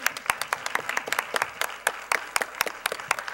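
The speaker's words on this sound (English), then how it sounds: "Now we can applaud all your candidates." An audience at a candidate forum applauds, a short burst of dense, close handclaps with faint crowd murmur beneath.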